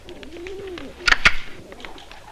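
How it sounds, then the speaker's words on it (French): Pigeons coo softly with a low, rounded call near the start, followed by a quick cluster of sharp clicks or flutters, on a French film soundtrack from 1967. "Vous mangez des pigeons, des créatures du bon Dieu."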